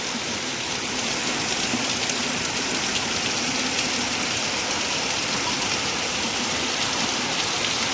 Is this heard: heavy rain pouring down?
yes